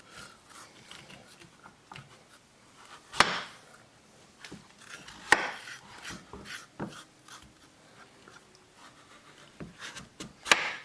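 A kitchen knife cuts raw kabocha squash, a Japanese pumpkin, into half-inch chunks on a board: a handful of sharp, well-spaced chops stand out over quiet scraping and rubbing, close and fairly soft, with no talking.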